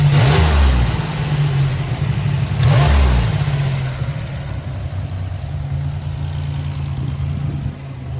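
Buick Grand National engine idling close by, opening with a couple of throaty revs before settling into a steady, rumbling idle with a slight lope.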